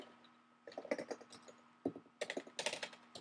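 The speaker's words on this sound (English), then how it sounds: "So I'm going to type in my Moodle site" Fingers type a web address on a computer keyboard in quick bursts of close, crisp key clicks, with a short pause before a second rapid flurry of keystrokes.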